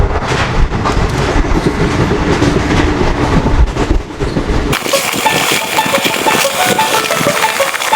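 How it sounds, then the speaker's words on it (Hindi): Train pulling into a railway station, a loud rumbling rush of wheels and carriages with clattering rail noise that shifts to a brighter, hissing clatter as the cars pass close by. "ट्रेन आ गई अपने समय पे"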